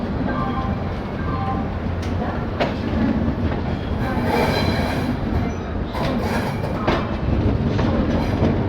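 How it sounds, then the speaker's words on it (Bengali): An express train rolls slowly into Pandit Deendayal Upadhyay station, with a steady rumble of wheels and cars, rhythmic clickety-clack over rail joints and occasional higher squeals, continuous and fairly close throughout. "সকাল 9টার সময় ট্রেন ধীরে ধীরে পণ্ডিত দীনদয়াল উপাধ্যায় স্টেশন এন্টার করছে"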